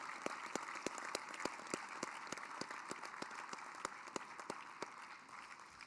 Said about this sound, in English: let's take a moment to give one more big round of applause